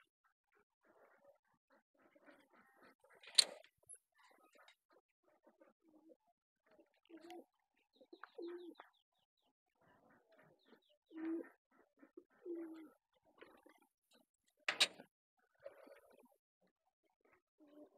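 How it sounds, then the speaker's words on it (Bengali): Pigeons in a coop give faint, scattered coos and soft throaty calls at irregular intervals, with near silence between them. "এই খোপটায় অনেক কবুতর বসে, অনেক কবুতর অচেনা লাগে"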